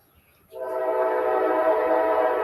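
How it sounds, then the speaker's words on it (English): A train passing at night with its horn sounding, a long sustained blast that starts abruptly after a quiet moment and holds steady and loud, no talk over it. "There goes the damn train."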